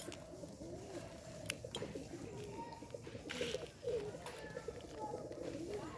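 Pigeons coo softly in repeated low, rolling calls, fairly faint and close, with light rustling and a few brief knocks around them.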